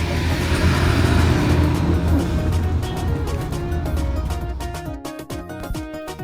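A bus drives along a road through hilly, rocky country in northern Cameroon, with a loud steady engine rumble and road noise that eases slightly toward the end, alone with no talking.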